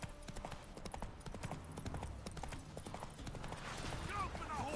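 Hooves of Roach, the horse in the Witcher 3 video game, clip-clop in a steady trotting rhythm, close and clear, with a voice and other game sounds in the background.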